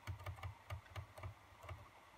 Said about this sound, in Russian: С помощью кнопок in и out на клавиатуре A и O я выделил область